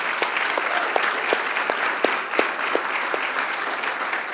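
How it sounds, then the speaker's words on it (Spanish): A church congregation applauds during a Spanish-language sermon, with dense, steady clapping from a crowd filling a hall and a few sharper individual claps standing out, and no speech. "¿No le das un aplauso al Señor?"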